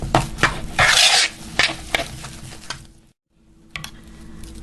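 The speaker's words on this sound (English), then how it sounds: "I don't like the noise that's making when I scrape the bowl with my metal spoon" A metal spoon scrapes a mixing bowl of Greek yogurt, giving several close, harsh rasping strokes and clinks, one long scrape near the start, then a brief pause and a few lighter scrapes.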